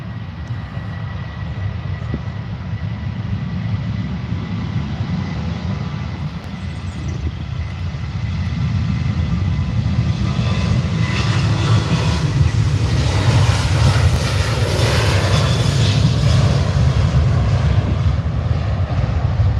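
Ryanair airliner on its takeoff roll at Manchester Airport, a loud continuous engine roar that swells and brightens as thrust builds partway through, then stays at full power with a rushing hiss.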